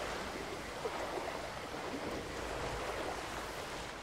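Water in the video game Velvet Assassin, a steady rushing wash like surf or a flowing stream that stays even and continuous throughout, heard alone without voices.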